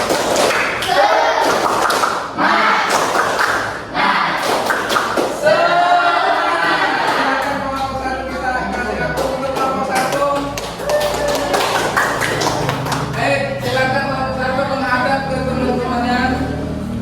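A classroom group in an Indonesian school lesson performs a rhythmic spirit clap, sharp patterned bursts of hand claps and thumps in quick sequences, followed by a voice talking while scattered claps continue.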